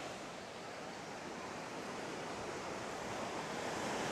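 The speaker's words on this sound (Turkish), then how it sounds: "Evet arkadaşlar Muradiye Şelalesi'ne geldik." Muradiye Waterfall roaring as a steady broadband wash of rushing water, loud and continuous, with no voices over it.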